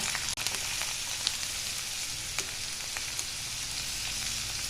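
Chopped onion frying in a pan with ginger, green chilli and garlic for a cauliflower curry, a steady close hiss and sizzle with faint crackles and a few light stirring clicks.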